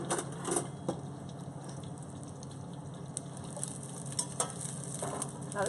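Food sears in a hot pan over high heat, producing a soft, constant sizzle broken by light clinks and scrapes as a spoon tosses it, with no speech.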